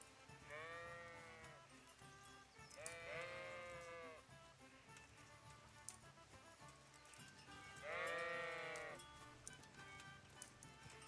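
Sheep in the medieval video game Kingdom Come: Deliverance bleat three times in wavering, nasal cries over a low ambient game soundscape with faint hoof clops, fairly close and moderately loud.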